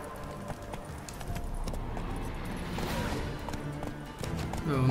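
A horse's hooves clip-clop in a steady walking rhythm in the video game The Witcher 3, mixed into busy ambient game noise with a brief sharp creak near the end.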